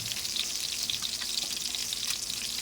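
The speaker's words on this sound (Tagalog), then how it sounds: "so kumukulo na ang ating tubig guys" Water boiling in a cooking pot during lunch preparation, a steady close hiss of bubbling with soft crackle throughout, no voices.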